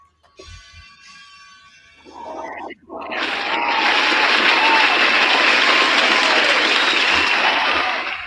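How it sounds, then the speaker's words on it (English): A crowd bursts into loud, sustained cheering and applause for a performer at a live show, building after a short lead-in and holding as a dense roar of clapping and shouts. "To the crowd going absolutely bonkers for Corvus Oskin."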